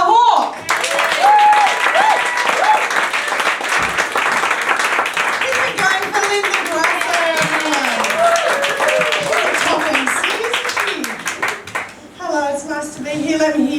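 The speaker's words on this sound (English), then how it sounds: "give a big round of applause to Elissa Hawke" A comedy club crowd gives loud, dense applause to welcome comedian Elissa Hawke, sustained for over ten seconds, with voices and cheering mixed in before it tails off.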